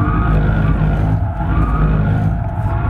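Loud, sustained tire squeal as a BMW i4 M50 electric car slides sideways, the screech wavering over a roaring motor for several seconds.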